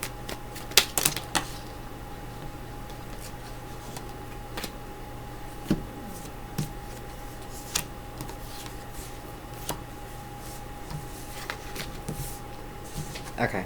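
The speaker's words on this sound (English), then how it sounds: "I feel like doing one more shuffle." Tarot cards shuffled by hand in a quiet room, soft riffling clicks and taps coming in short bursts, with faint talk in between.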